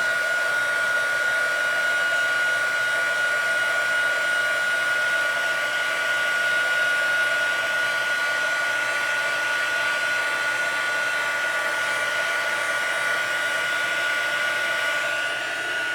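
Heat embossing tool blowing hot air onto embossing powder on vellum card, a steady, loud hair-dryer-like whoosh with a faint whine that runs unbroken throughout, no voices.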